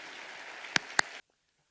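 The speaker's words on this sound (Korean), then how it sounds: "우리 하나님께서 우리 귀한 이영우 목사님 보내주시고 우리 목사님을 환영하는 말로 박수로 맞이하겠습니다." A church congregation at a Sunday evening service claps briefly to welcome a guest pastor, a soft wash of applause with two sharp close claps before cutting to silence.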